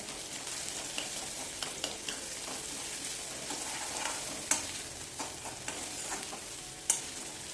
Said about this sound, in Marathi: कांदा हलकासा ब्राऊन रंगावरती आपण परतून घेऊया